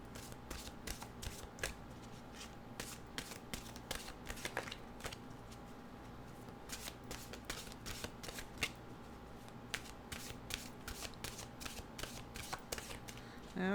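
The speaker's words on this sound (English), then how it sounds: "the cards felt like they needed to be mixed up a bit" A deck of cards being shuffled up close, repeated crisp riffling bursts in an irregular rhythm, fairly quiet with a faint hum underneath.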